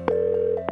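A telephone tone sounds as a number is dialed, with a steady held tone broken by short beeps at the start and end.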